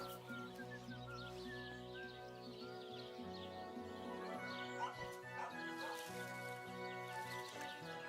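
A dog barks and yips repeatedly in the video game Kingdom Come: Deliverance 2, with a steady musical score underneath and occasional bird calls.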